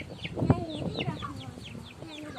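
A chicken clucks in short, repeated calls, close and fairly clear, with a louder burst near the start and softer clucks trailing after, and no talking over it.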